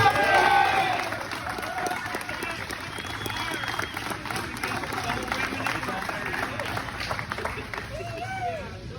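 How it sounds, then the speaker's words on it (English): Workplace huddle audience claps for Phil, a burst of applause loudest at the start then settling into a steady, moderate patter with faint voices mixed in. "Let's give a huge round of applause to Phil."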